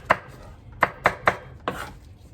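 A knife cuts watermelon into bite-sized pieces on a board: five crisp, evenly spaced chops, close and clear, with no voices.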